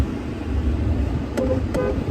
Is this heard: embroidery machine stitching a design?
no